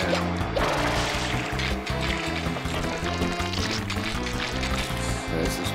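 Water sprays from the nozzle in the Super Mario Sunshine video game, a hissing, pouring rush that runs steadily under loud, continuous game music.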